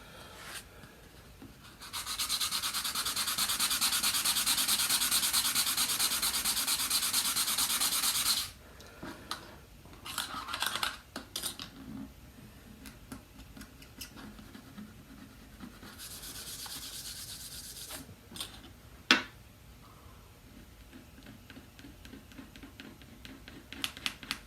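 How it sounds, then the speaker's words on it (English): Sandpaper rubbing over a guitar inlay repair, two long steady scratchy stretches of sanding with scattered light taps and scrapes between them, close and alone. "Some sandpaper on there."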